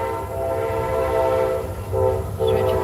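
A passing train sounds its horn loudly and close by in long blasts that pause briefly and resume, over a continuous low rumble of the rail cars.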